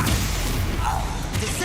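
A Depulso spell cast in the Hogwarts Legacy video game, a forceful magical blast with a heavy slam and thud under a brief whoosh, close and loud over a steady game soundscape.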